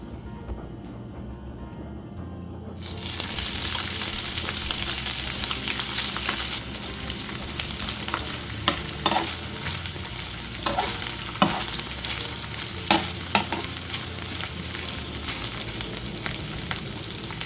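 Ghee hits a hot pan holding tomato and onion paste and bursts into a loud, close, steady sizzle after a quiet start, with occasional sharp clicks from stirring. No voices are heard.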